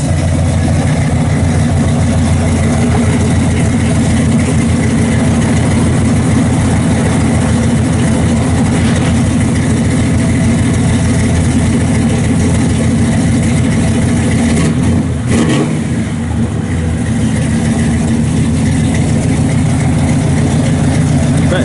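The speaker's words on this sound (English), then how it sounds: "Good sounding car. 1-seat 4-speed in it. Duals all the way off the back." A 1966 Chevrolet Impala SS with a 4-speed and dual exhaust idles close by in a steady, loud, low rumble that runs unbroken for over twenty seconds, with a slight dip midway.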